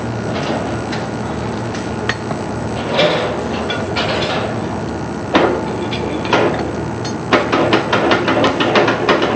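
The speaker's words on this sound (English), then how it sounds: "You may have to tap it with a soft head hammer or shake the sling to get it loose" A soft head hammer tapping on the chamber head of a Hydril annular blowout preventer, giving irregular metallic knocks and clanks over a noisy industrial background, with the taps growing busier toward the end.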